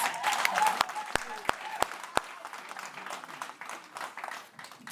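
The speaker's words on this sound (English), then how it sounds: "Please give them another round of applause." An audience at a university campus event applauds in a moderate, somewhat distant patter of clapping, with a few sharp knocks near the start and voices audible underneath.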